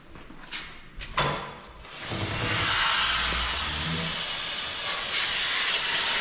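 Air conditioning line on a Cat 259D skid steer leaking, a few short knocks then a loud, steady broadband hiss of escaping air close by.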